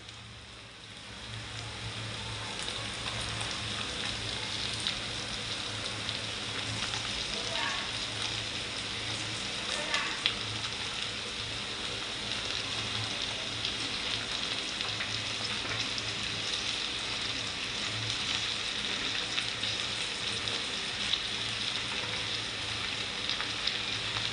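Okra stir-fries with onion and kokum on low heat, giving a continuous dense sizzle like light rain, with faint occasional stirring scrapes beneath it.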